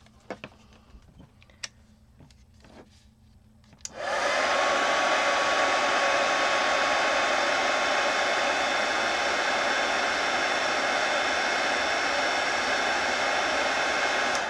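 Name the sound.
heat gun blowing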